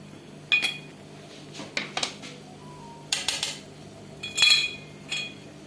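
Kerala-style chemba puttu is pushed out into a metal vessel, making a run of close clinks, taps and scrapes of metal on metal at an uneven pace, with no voices.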